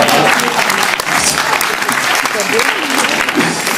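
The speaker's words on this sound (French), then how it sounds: "Et j'applaudis beaucoup le public." Sustained loud applause from a large theatre audience, dense steady clapping filling the whole stretch with some crowd noise mixed in.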